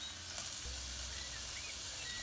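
Diced onion dropped into a hot pan for a bacon and onion burger, a steady, quiet sizzle of frying that fills the whole short moment with no talking.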